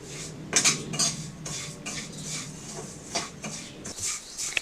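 Vermicelli is stirred and roasted in a pan while making kunafa. A utensil scrapes and clinks against the metal in irregular bursts, close and moderately loud, with no voices.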